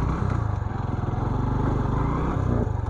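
A TVS motorcycle's engine putters loud and close at a low, steady rhythm as it sets off on an off-road ride, with no one talking.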